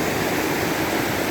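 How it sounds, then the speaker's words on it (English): A river at Greenville Falls pours over a simple drop in its level, making a steady, unbroken rush of white noise that stays close and even the whole time, with no voices. "The current of the river never stops."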